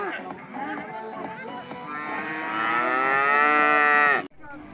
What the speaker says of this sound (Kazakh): Семіз сиыр тұр екен мына жерде.